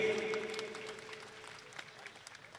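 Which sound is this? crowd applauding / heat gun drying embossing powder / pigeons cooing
crowd applauding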